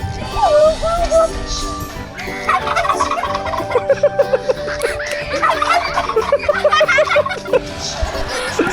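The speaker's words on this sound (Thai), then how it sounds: "เสียงไก่งวง ไก่งวงร้องไง" Repeated turkey gobbles, bubbly and warbling, rise over a busy background of people chattering and moving about nearby at Chokchai Farm in Thailand.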